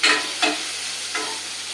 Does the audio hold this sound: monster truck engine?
no